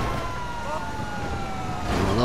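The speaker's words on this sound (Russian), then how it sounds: "Че, пожарная? Зачем пожарную вызвала?" A fire truck siren wails in Grand Theft Auto V, its rising and falling tone steady at moderate distance over a rumbling vehicle engine.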